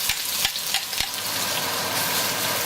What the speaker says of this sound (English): I am going to saute the onions.